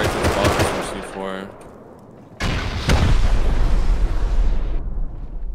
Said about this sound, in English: This is me shooting AK at the doorway